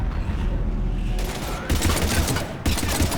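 Heavy gunfire in a Mass Effect 3 battle: dense, continuous volleys of rapid shots with deep booming lows, swelling in bursts around the middle and end, loud and close throughout.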